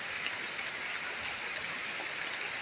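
Steady, dense rain hisses continuously, a bright even wash of falling drops with no pauses and no voices.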